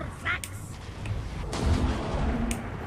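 Artillery fire in a Warhammer strategy video game, with several dull low booms and scattered battle noise over a steady din, while someone talks through much of it.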